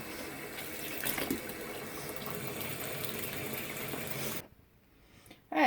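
Running water while rinsing fodder seeds for a new batch, a steady rushing flow that stops abruptly near the end, followed by a brief quiet and a sudden clatter.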